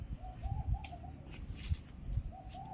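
Soft, low bird calls repeat in a steady cooing rhythm, somewhat distant, over a faint background rumble.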